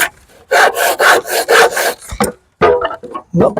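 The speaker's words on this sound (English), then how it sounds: "this would be a good opportunity to come back and use a handsaw" Wood being cut by hand with a handsaw while building a potato box: loud, close rasping strokes in a regular back-and-forth rhythm, with a short pause before a few final strokes.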